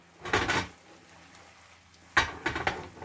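Spaghetti with scampi stirred in a pan on the stove: two short bursts of scraping and clattering, separated by a quiet gap, fairly close and moderately loud.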